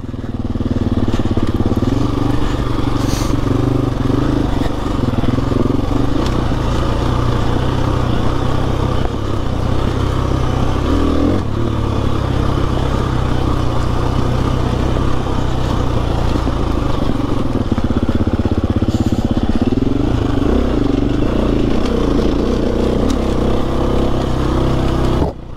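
Enduro motorcycle riding off-road up a steep hill, the engine droning loud and close throughout with steady throttle and minor surges, no talk.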